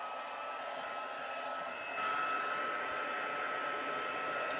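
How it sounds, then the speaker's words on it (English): A heat embossing gun blows steadily while melting embossing powder on a stamped card, a constant broadband whoosh that grows slightly louder partway through, with no talk. "let's go ahead and emboss or heat that up"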